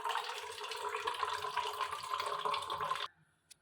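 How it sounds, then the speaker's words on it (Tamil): A kitchen tap runs steadily as water fills a container for hand washing, a constant close hissing gush that stops abruptly, followed by a couple of small clicks. "இப்போ தண்ணி பிடிக்கணும்."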